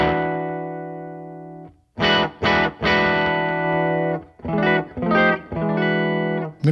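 Clean electric guitar played through an SFT with the gain turned down, a sustained chord ringing out, then a short pause and a run of strummed chords and notes, loud and alone.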